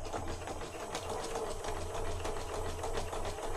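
A sewing machine stitches through a junk journal writing set made of paper, running in a steady, fast mechanical rhythm with a low motor hum, close and continuous throughout.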